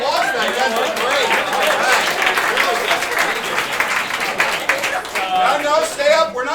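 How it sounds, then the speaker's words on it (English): A corporate retreat audience breaks into sustained applause, dense clapping mixed with cheering and excited chatter, loud and close throughout. "Give yourself a round of applause now."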